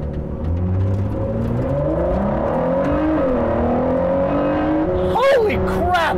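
A 2020 Ford GT's engine accelerates hard from close by, revs climbing steadily through the gears in a loud, rising roar, ending in a sharp rev burst.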